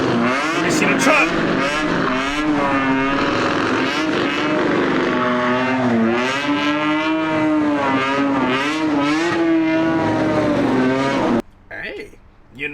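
A car in a drifting event does a burnout, its engine revving hard and wavering in pitch as the tires spin. The sound is loud and sustained for about eleven seconds, then drops off abruptly.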